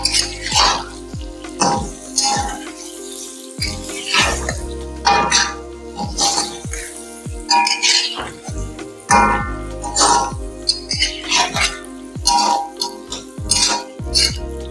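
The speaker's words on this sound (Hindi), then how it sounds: "अब इनको इसके साथ अच्छी तरह से मिक्स कर देंगे।" Tomatoes being stirred into chicken karahi in a pan, with repeated scraping and clinking of a spoon against metal in an irregular rhythm and a few coughs, while someone talks over it.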